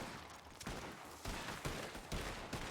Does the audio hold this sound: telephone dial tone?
no